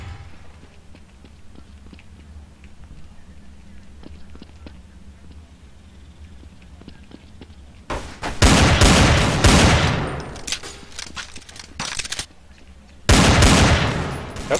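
Loud bursts of rapid gunfire erupt in Counter-Strike: Source after a quiet stretch of faint footsteps and clicks, with two heavy volleys close up.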